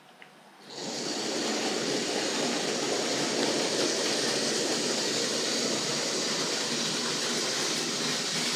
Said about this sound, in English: So let's run this one the correct way this time.